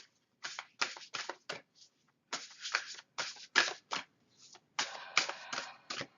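Inner Child oracle cards are shuffled by hand in a series of quick, crisp riffling bursts with short pauses between them, close and fairly clear against a quiet room.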